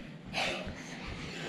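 A person sneezes once indoors during a family watercolor painting session, a short, sharp burst of breath near the start, followed by a quiet room.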